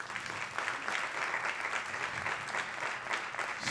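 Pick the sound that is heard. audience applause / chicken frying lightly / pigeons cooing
audience applause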